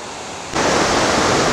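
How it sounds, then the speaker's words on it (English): A tiered waterfall above a still swimming pool near Rangeley, Maine, bursts into a loud, steady roar of rushing water after a brief quieter moment, filling the air with continuous broadband splashing. "you got another tier of waterfall here"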